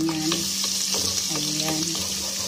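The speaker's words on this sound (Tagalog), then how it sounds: "nagigisa na si Maris ng bawang" Garlic sautéing in a pan for chicken afritada, a steady close sizzle with rhythmic scraping of a spatula stirring, accompanied by a faint background tone.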